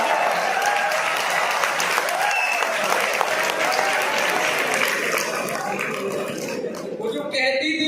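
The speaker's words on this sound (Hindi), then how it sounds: "ठोको ताली।" Sustained, dense applause and clapping from the audience at a Hindi comedic poetry gathering, a kavi sammelan, rolling steadily for several seconds with a voice briefly heard over it.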